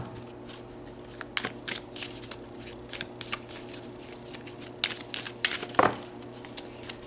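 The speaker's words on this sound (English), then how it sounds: "So let's pull some tarot cards." Tarot cards shuffled by hand in quick bursts of crisp riffling and slapping, close and moderately loud, with brief pauses between flurries and no speech.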